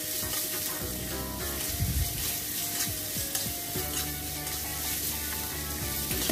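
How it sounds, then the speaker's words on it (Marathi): Chopped tomato sizzles with onion paste in a pan while cooking matki usal: a steady, close frying crackle with occasional stirring scrapes, and no voices. "1 टमाटर आहे ते टाकून घेऊ आणि त्यालासुद्धा कांद्यासोबत छान परतून घेऊ आपण।"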